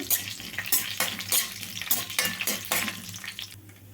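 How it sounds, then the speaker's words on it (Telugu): Cumin seeds and a dried red chilli tempering in hot oil, sizzling close and loud with repeated bursts of crackle and stirring scrapes, fading slightly at the end. "చూడండి ఒక ఎండుమిరపకాయ తాలింపు వేగాలి"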